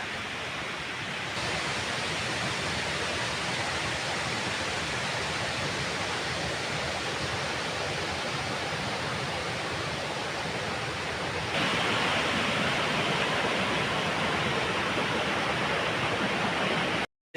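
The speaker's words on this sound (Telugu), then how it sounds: "ఆ సౌండ్ విన్నారండి వాటర్ ఫాల్ సౌండ్" A waterfall at Bhupathipalem reservoir, among green hills, roars in a steady, dense rush of water that stays loud and unbroken, growing slightly louder near the end.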